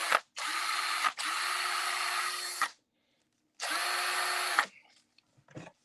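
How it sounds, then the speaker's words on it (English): A DeWalt cordless drill whirs in three loud, close bursts, two quick runs then a longer one after a pause, each starting and stopping abruptly, followed by faint clattering handling noises. "DeWalt drill."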